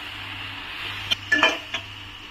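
A spoon stirs green mango chutney in a pan, giving a few brief metallic clinks and scrapes over a steady low background hum.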